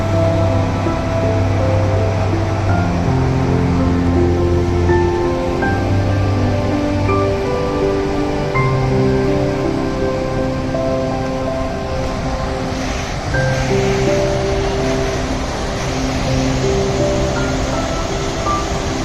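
Rushing water pours down Pykara waterfall near Ooty, a continuous loud broadband roar with steady low rumble and no talking, holding even throughout.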